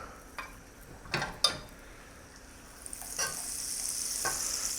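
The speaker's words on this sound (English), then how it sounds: "And that's sizzling, but I'm going to lower the heat a little." Butter and olive oil sizzle gently in a pan, with a few scraping clinks early on, then the hiss grows brighter and steadier.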